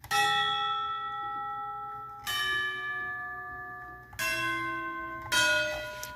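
Steeple church bells from a MIDI sound bank strike four times, each a bright ringing toll that decays slowly before the next, with the last two closer together.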